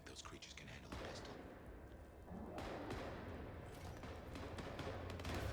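Rapid bursts of gunfire in Vampire: The Masquerade – Bloodlines 2, including pistol shots, crackle over a dense, noisy soundscape, with sharp reports scattered throughout and a constant rumble underneath.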